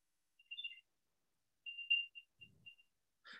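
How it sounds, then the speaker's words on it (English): Apple earbuds sounding the iPhone play-sound finder alert: faint, thin high chirps in short bursts with gaps, heard alone in a quiet room. "So I'm going to tap play a sound."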